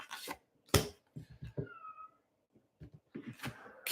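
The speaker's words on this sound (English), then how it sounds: "That is my cat, if you can hear her meow." A cat gives a short, thin meow among scattered soft thumps and rustles nearby, quiet overall.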